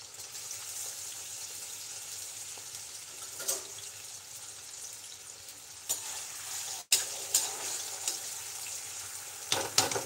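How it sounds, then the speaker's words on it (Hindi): Green chillies frying in oil make a soft, continuous sizzle, with occasional clinks and a sharp knock or two from utensils, quiet and without speech. "गाइस तो हरी मिर्ची फ्राई कर देते हैं हम लोग।"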